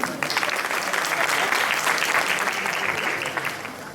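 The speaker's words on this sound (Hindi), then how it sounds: "मैं एक बार सभी से कहूँ जोरदार ताली।" An audience at a Sheetla Mata temple event claps vigorously in a dense, steady burst of applause lasting several seconds, fairly close and loud, with faint voices mixed in.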